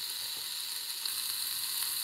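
Breakfast sausage sizzles in an Instant Pot, a steady bright crackle and hiss running continuously at close range without talk.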